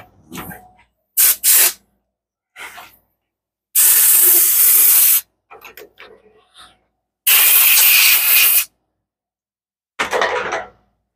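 Compressed air blasts clearing metal slivers off a freshly cut thread in a machine shop: several loud, sharp hissing bursts of varying length, two sustained for over a second, with clicks and handling noises between them.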